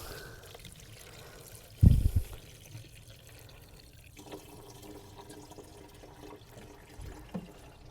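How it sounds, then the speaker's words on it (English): Hot water gushes briefly into a car heater core hose during a flush, a short burst of pouring followed by faint trickling and occasional drips. "Now I'm just gonna flush it out with hot water first"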